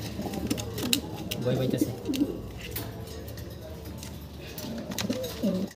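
Racing pigeons coo in low, throaty bursts at close range, the rolling calls rising and fading under a man's speech and some background chatter.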